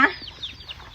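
Farm chickens on a rural village homestead, a short burst of clucking up close with a few quick, soft follow-up calls, no talk.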